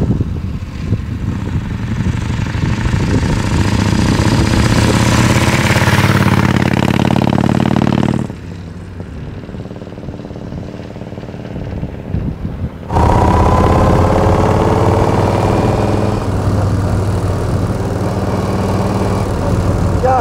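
A 1934 Morgan Threewheeler Supersports in original condition runs with a loud, close, raspy engine note that drops to a quieter idle midway before returning at full volume.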